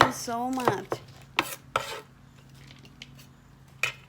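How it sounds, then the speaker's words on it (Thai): A knife chops vegetables on a board a few times at a slow, uneven pace, close by, after a short vocal sound at the start. "หั่นผักไปด้วยนะคะ"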